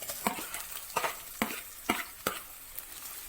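Crushed shallots frying in hot oil for a Kerala fish curry, with rhythmic stirring scrapes about every half second over a steady sizzle, close and moderately loud, no voices.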